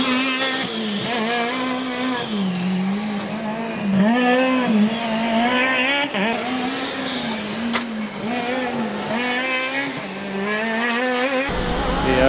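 The Rennteam Stuttgart Formula Student combustion race car drives during the FSG21 endurance event. Its engine revs up and down in repeated rising and falling sweeps, loud and continuous, with a brief drop near the end.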